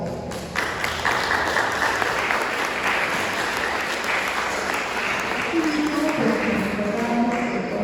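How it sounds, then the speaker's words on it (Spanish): Applause welcoming guests at an academic lecture event, a steady, even wash of clapping from a seated audience lasting several seconds, with some voices audible beneath. "nos brindemos un fuerte aplauso"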